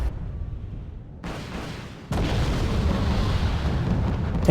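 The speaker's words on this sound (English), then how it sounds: "So I try to bring up my rocket troops up so they can launch on these vehicles" Rocket artillery troops in Wargame: Red Dragon launching on vehicles: a loud sustained roar that steps up twice, first at about a second in and then sharply at two seconds, into a dense rumbling barrage.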